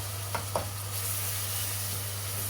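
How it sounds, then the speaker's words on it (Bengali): Garlic fries in a pot for a country chicken curry, giving a steady, close hiss of sizzling oil throughout, with a couple of faint stirring scrapes near the start and a low electrical hum underneath. "রসুনটাকে একটু ভেজে নিব"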